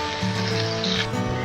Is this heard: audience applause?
no